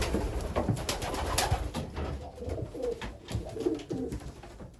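Several pigeons coo softly in a breeding loft, low throaty murmurs overlapping against a rustling background, with occasional sharper flutters.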